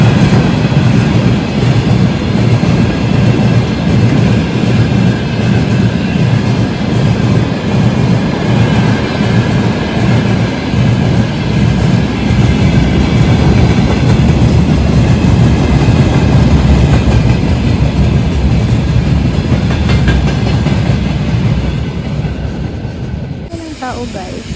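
A train passes close by in Russia: a loud, continuous rumble of wheels and rolling cars with hiss on top, fading slightly as it ends.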